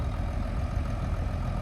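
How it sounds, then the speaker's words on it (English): A 1983 John Deere 4450 tractor engine idles while warming up, a steady low diesel rumble heard close and continuous, with no voices over it. "I'm gonna let the tractor warm up a little bit"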